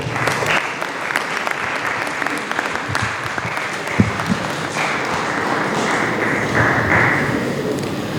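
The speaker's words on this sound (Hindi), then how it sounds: "आपकी भरपूर तालियों में मैं दावत देता हूँ इस ड्रामे के प्रोड्यूसर मोहम्मद हसन इमरान मलिक को।" Audience applause at a school Urdu play on stage at Aitchison College, dense and steady clapping from a large crowd that keeps going for the whole stretch, with a few thumps mixed in.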